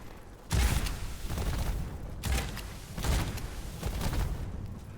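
Shotgun fire in an FPS roguelike video game: loud booming blasts at about 0.5, 2.2 and 3.1 seconds, each trailing into a dense rumbling wash of game noise.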